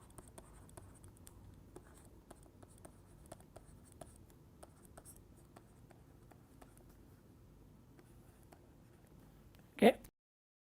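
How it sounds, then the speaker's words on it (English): A pen writes the Gaussian distribution formula by hand, giving soft, faint scratching and ticking strokes in irregular rhythm, close-up and quiet, ending with one louder tap or knock. "So, I will write down the Gaussian distribution here."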